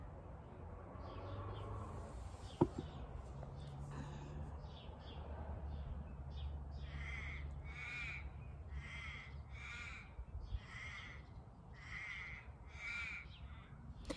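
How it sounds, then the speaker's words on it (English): Parrots calling outdoors: a run of harsh, repeated squawks in the second half, moderately near, over a steady low background rumble. "Oh, the parrots out here today."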